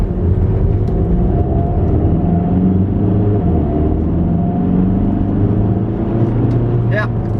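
An Audi A3 fitted with a new turbo drives under acceleration, a loud, continuous low engine and road rumble heard from inside the cabin, steady throughout with a brief faint chirp near the end.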